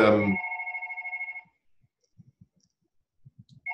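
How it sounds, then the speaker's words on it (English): A phone rings during a general meeting, a warbling electronic ring pulsing quickly for about a second and a half before cutting off, followed by faint low knocks and muffled sounds. "hold on a second, I need to mute my phone"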